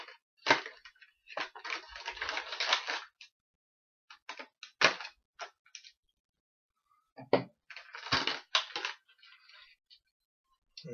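Crinkling, tearing and crushing bursts as the packaging of a Loot Crate box is opened, coming in irregular close-up clusters separated by short silences.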